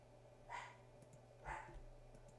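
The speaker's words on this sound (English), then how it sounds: "that will be the puppy in the background, ferociously barking at the world" A puppy barks twice in the background of a quiet home, two faint, evenly spaced yaps over a low steady hum.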